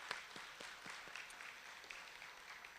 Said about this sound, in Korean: 여러분 박수로 환영 좀 해주시고요.